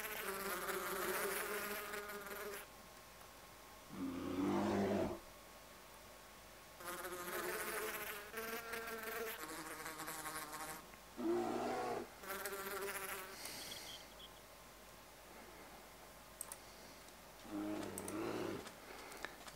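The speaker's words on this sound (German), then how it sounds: "Die Bienen, die eigentlich Wespen sind." Insect-like buzzing from bees that are really wasps in Minecraft with the Mo'Creatures mod comes in repeated loud bursts a few seconds long, broken by quieter gaps, with no talking.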